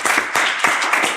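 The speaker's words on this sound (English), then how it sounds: "Let's give you a round of applause." A lively audience claps continuously at a startup founder pitch event, a dense, loud burst of applause with no voices over it.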